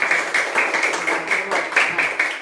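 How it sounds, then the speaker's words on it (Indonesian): Classroom applause greets a student group after their presentation in a biology lesson: steady, rhythmic clapping from many hands with regular swells, close and moderately loud throughout. "tepuk tangan untuk presentasi"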